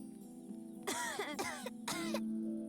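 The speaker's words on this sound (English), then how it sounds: "As much as I would love to test my immune system against that cough" A character in the video game 3 Minutes to Midnight coughs in two or three harsh, close bursts, each a rough rasping hack, over a quiet low background hum.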